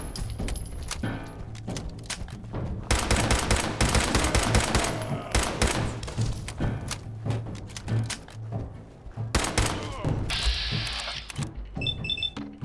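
Fallout 4 combat gunfire comes as dense, rapid volleys of loud shots and mechanical clatter, continuous for most of the stretch, with a brief electronic beeping near the end.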